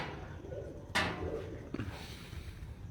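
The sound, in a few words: pigeons flown from a rooftop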